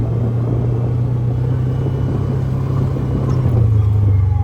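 A John Deere Gator utility vehicle's engine droning loudly while driving around a property, a steady low rumble with a constant hum that swells slightly near the end, running hot.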